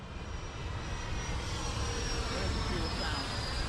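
Freewing T-45 Goshawk 90mm RC jet flying at full speed after its maiden takeoff: a steady, loud broadband roar and whine of the electric ducted fan, continuous and even throughout the clip.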